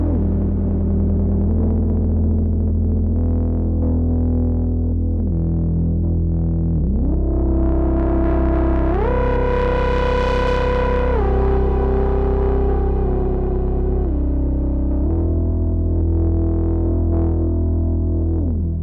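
A droning Moog Subsequent 37 analog synthesizer tone, thick and buzzy, sliding smoothly between pitches with glide, rising to a brighter peak midway before settling lower again.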